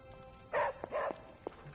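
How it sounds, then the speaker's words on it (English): A dog named Riley barks in the video game Midnight Suns, giving two short soft woofs followed by a brief yip, fairly quiet against low background game ambience. "Riley, you can hear her bark."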